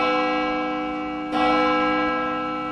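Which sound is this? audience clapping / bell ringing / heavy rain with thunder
bell ringing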